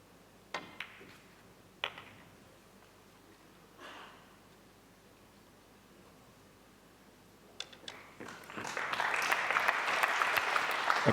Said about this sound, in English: Appreciative applause, rightfully so.